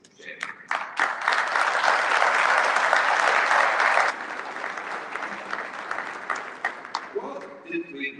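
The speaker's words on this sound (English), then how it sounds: "They are deserving of a big applause." Audience at a society meeting breaks into loud, sustained applause that fades into scattered claps, followed by a speaker talking.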